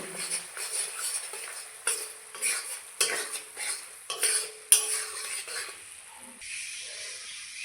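Maggi noodles stirred with masala spice mix in a pan, a series of separate spatula scrapes and clinks against the metal, each stroke distinct, over a faint sizzle.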